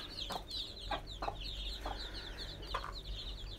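A mother hen on a Tamil chicken-rearing farm gives soft, repeated clucks at irregular intervals, with faint chick peeping and farm ambience behind, no talking.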